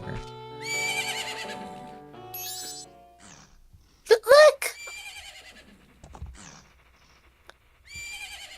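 A horse whinnies sharply in a loud, shaky burst amid bright game music and chimes in Majora's Mask, at Romani Ranch, with a voice speaking briefly beforehand.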